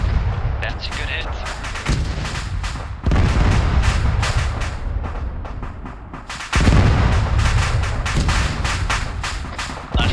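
Repeated heavy mortar launches and booming impacts from an Arma 3 mortar section firing on a convoy, loud, dense thumps in steady succession with occasional voices underneath.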